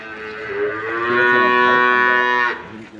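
Cattle at a farm give one long, loud, close moo that swells and then cuts off, with no talking.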